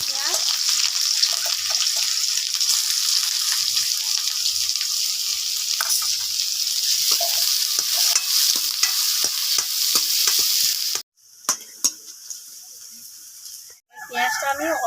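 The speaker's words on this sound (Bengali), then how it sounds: "পেঁয়াজটাকে ভাজবো" Onions frying in a pan: a steady close sizzle with repeated stirring scrapes and knocks for about eleven seconds, then a sudden drop to near-quiet with a few clatters and a short voice at the end.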